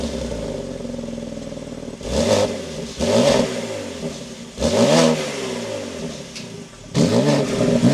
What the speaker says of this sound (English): But let's start this back up with my foot on the brake.